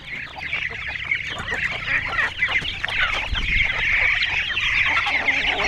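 A flock of hungry chickens clucks and chatters continuously at feeding time, a dense, moderately close chorus of overlapping calls with scratchy pecking underneath.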